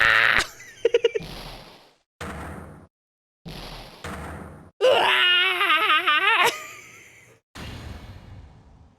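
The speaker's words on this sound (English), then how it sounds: "I've heard that scream before." A scream from the courtroom video game Phoenix Wright: Ace Attorney, set among game sound effects and blips: short bursts, then a loud wavering cry lasting over a second, followed by fading noise.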